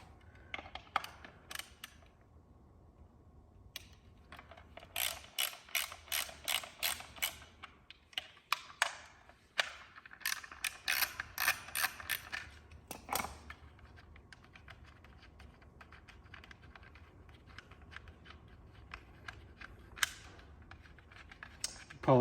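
Small bolts being unscrewed from the headlight of an Ariel Rider X Class 52V step-through e-bike during assembly, heard as scattered close clicks, ratchet-like ticks and faint creaks in bursts, with no talking.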